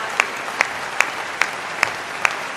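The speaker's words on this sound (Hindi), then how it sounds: "मैंने कहा ताली कम मत करो।" An audience at a Hindi comic poetry gathering claps in unison, six sharp, evenly spaced beats over a soft background of crowd noise.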